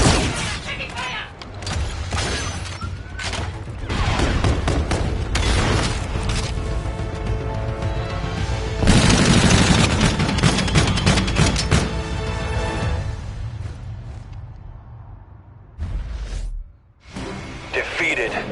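Call of Duty: Infinite Warfare combat with sustained bursts of gunfire, booms and whooshing mechanical effects that are loud and continuous for most of the stretch, briefly dropping out near the end, with in-game voices speaking over the action.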